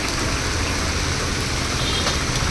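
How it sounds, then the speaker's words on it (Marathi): Heavy rain pours down steadily near a shop by a roadside, a loud, dense, unbroken hiss and patter filling the whole stretch with no voices. "पाऊस पडत आहे खूप."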